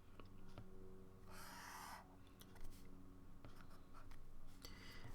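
Pen or pencil strokes drawing a triangle by hand on paper, several short scratchy marks including one longer stroke, close and quiet with no talk.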